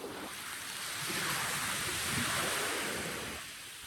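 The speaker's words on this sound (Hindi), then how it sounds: "लहरें देख रहे हो?" Ocean waves on an Andaman beach build into a broad, loud rush of surf that swells and fades, heard close with some wind across the microphone.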